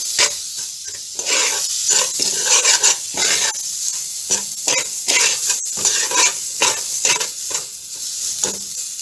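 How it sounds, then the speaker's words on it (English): Butter or margarine melting in a pan of toasting quinoa with starch, a loud close sizzle and hiss broken by repeated stirring scrapes, without speech. "Next I add a little butter or margarine."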